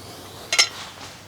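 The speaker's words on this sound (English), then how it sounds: "just going to insert the bolt through the tool and slide the spacer over" A bolt is pushed through a shim-measuring tool for a TR6060 transmission and a metal spacer slides over it, giving one short, close metallic clink in an otherwise quiet space.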